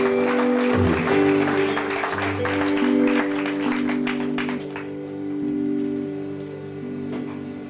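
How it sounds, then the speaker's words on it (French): An audience at a church concert applauds and cheers loudly for several seconds over sustained organ or keyboard chords, and the clapping thins out and fades while the music continues. "Est-ce qu'on peut acclamer pour Jésus?"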